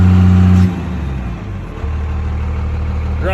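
A 12v Cummins diesel engine runs loud and close at a high idle, then drops to a lower steady idle rumble and settles into an even, continuous drone.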